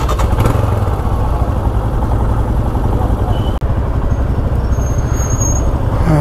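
A motorcycle engine runs steadily at the start of a ride after a breakfast stop on a muddy road trip from Bhiwandi toward Kumbhe Waterfall, a loud, close, continuous idle-to-rumble with clattering texture and a brief dropout midway.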